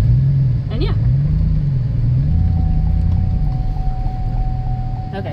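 Steady low engine rumble of a 2003 Chevy Tahoe SUV driving, loud and close, with a faint whine rising and falling and a light periodic ticking.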